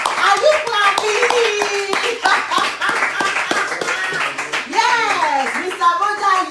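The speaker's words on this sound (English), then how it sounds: "Are you clapping?" Audience applause fills an anniversary celebration broadcast for a health products company, a dense run of many hands clapping nearby while people talk and call out over it.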